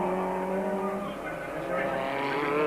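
Super trucks race on a dirt track in a 1997 super series final-lap duel, engines droning steadily and loud throughout, with a commentator talking over the roar.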